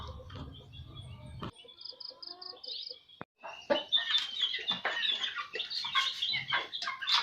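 Chickens being raised on a farm cluck and chirp in short, scattered calls that come close and fairly loud, with bird sounds over an open outdoor background and no talk.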